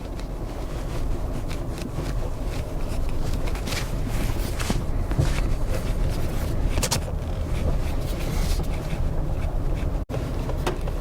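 A Ford Explorer ST with a 3-liter twin-turbo EcoBoost V6 and 10-speed automatic, driven in normal mode, gives a steady low engine and road rumble with broadband cabin noise throughout, no talking.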